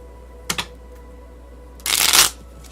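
A deck of playing cards shuffled nearby, a brief riffle followed by a longer, louder burst of fluttering cards over a steady background hum, with no talking.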